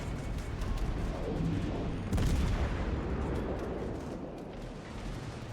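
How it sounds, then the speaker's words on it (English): Aerial bombs striking a warship's armor belt in World of Warships Legends, a steady roar of dense, overlapping blasts and rumbling impacts with a sharper burst near the middle, continuous and loud throughout. "the bombs keep hitting our armor belt"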